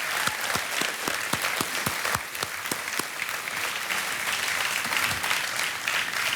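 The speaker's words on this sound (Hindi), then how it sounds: "ताली बजती रहनी चाहिए देवियों सज्जनों" A studio audience on a television quiz show applauds, with sharp, distinct claps close by in the first half over a continuous bed of crowd clapping.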